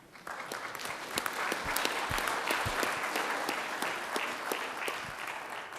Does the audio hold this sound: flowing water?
no